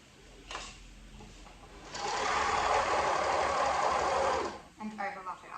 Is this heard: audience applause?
no